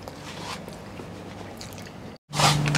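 Bites into a bacon-wrapped mac and cheese hot dog cooked on a Solo Stove, soft crunching and squishing close up, then a brief silence and a louder, sharper crunch.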